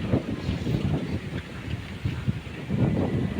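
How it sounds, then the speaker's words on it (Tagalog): Strong wind sweeps across a rice field, producing low, gusty roaring and buffeting against the microphone that swells and eases in uneven surges, with no voices. "Ang lakas po ng hangin."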